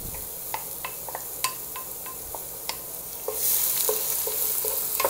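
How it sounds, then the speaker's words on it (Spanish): Potatoes fry in oil in a pan with a steady, close sizzle, broken by occasional light stirring clicks, and the hiss swells louder toward the end. "vamos a dejar que estas papitas se frían completamente"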